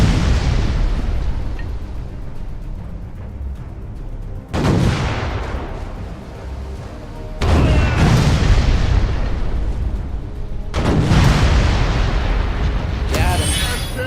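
Ship cannons in the VR naval game Furious Seas fire in several loud, booming volleys spaced a few seconds apart, each blast sharp and followed by a rumbling decay over constant sea and wind noise.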